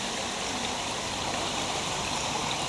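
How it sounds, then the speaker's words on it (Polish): Water pours steadily in a fountain in front of Colmar railway station, a continuous close rushing splash with no pauses and no voices. "taki spływ wody, jakby fontanna rzeźbiająca"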